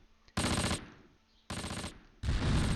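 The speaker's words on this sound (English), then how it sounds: "I hear more machine gun fire" Machine gun fire in the Close Combat: Panthers in the Fog video game: three short bursts of rapid fire, loud and close, separated by brief quiet gaps.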